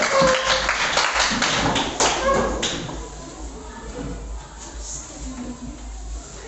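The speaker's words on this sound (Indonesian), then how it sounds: "Oke, tepuk tangan." A class claps hands, a busy burst of many claps at the start that fades after about three seconds into quieter room noise with some talk.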